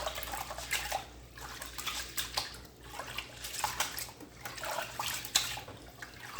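Rice rinsed in a bowl of water, sloshing and splashing continuously with soft swirling and pouring sounds, close and moderately quiet, no talking.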